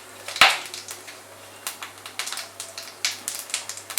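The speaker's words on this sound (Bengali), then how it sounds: "এর মধ্যে ফোড়ন দিচ্ছি গোটা গরম মশলা আর 1/4 টিস্পুন সাদা জিরে" Whole garam masala, a quarter teaspoon of white cumin and a dry red chilli drop into about five tablespoons of hot oil: one sharp splash, then irregular crackling pops and sputters close by.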